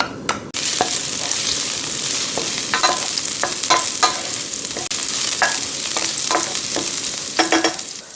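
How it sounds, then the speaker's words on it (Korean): Chili peppers stir-fry in olive oil infused with ginger over high heat, giving a steady close sizzle with intermittent scraping stirs and clinks of a utensil against the pan. "생강 기름을 넣고 고추를 먼저 볶아주시는 게 포인트입니다."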